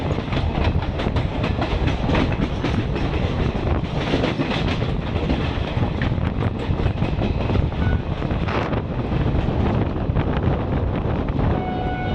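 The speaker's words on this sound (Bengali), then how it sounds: "চলছে হাওড়া নিউ জলপাইগুড়ি শতাব্দী এক্সপ্রেস" The Howrah–New Jalpaiguri Shatabdi Express running at speed, a loud continuous rumble of wheels on track with rhythmic clicking and wind noise throughout.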